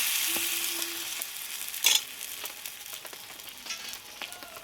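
Oil runs around a hot pan and crackles in a soft, uneven sizzle, with a brief louder burst near the middle that then settles into scattered faint pops.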